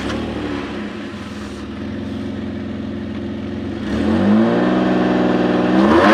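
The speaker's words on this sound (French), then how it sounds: "On va tenter le petit démarrage." A Peugeot 605 engine idles with a steady mid-pitched hum, then revs up sharply as it catches and rises again near the end, loud and close with no speech.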